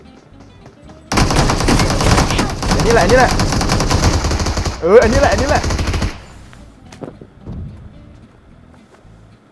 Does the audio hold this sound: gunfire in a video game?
yes